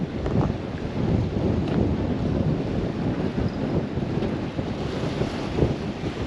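Wind gusts across a sea dike during surfcasting, buffeting the microphone in a loud, continuous rumbling roar, with surf washing beneath it and no voices.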